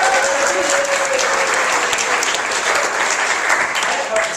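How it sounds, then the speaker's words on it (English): An audience at a live stage show claps steadily and loudly throughout for a helper named Kate, a dense, even wash of applause with no pauses. "Everyone give Kate a round of applause."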